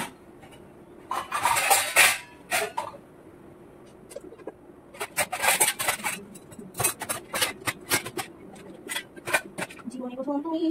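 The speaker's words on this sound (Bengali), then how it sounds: "বাসন গুছিয়ে নিই।" Dishes, pots and pans are arranged in a home kitchen: clustered clinks, scrapes and clatters come in irregular bursts at close range, with a quieter pause between them.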